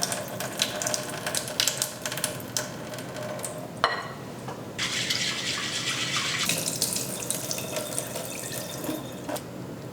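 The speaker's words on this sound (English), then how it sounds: "I'm gonna wash 1 cup of white rice and I'm gonna rinse it until the water runs clear." Tap water runs into a bowl as a cup of white rice is rinsed, a steady splashing stream with swishing and clinks of grains and bowl, briefly quieter before the flow surges again.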